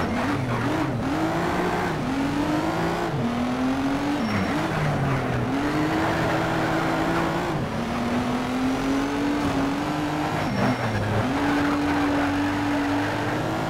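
A Ford GT in the racing game NFS Shift roars through a curve, its engine note rising and falling with gear changes and a brief tire squeal, loud and continuous throughout.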